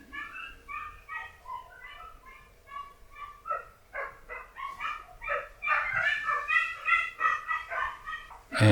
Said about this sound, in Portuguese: acho que alguns cachorros estão brigando aí por causa de uma cadela, provavelmente